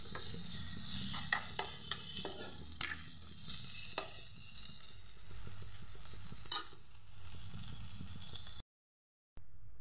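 Bitter gourd fries in a pan with a constant bright sizzle while a spatula stirs it, giving irregular scraping knocks throughout before the sound cuts out abruptly near the end.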